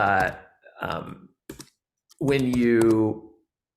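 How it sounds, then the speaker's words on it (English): Up and down arrow keys tapped on a computer keyboard, heard as a few short, sharp clicks scattered among nearby wordless vocal sounds. "I'm using the up and down arrow keys to select."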